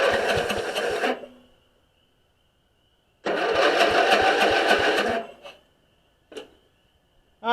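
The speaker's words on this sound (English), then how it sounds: "So we should be able to crank it over and have it shoot some fuel." Engine of a Murray-made Stanley GT lawn tractor cranking over without starting, two loud close bursts of starter whirring separated by silence, then a couple of brief clicks.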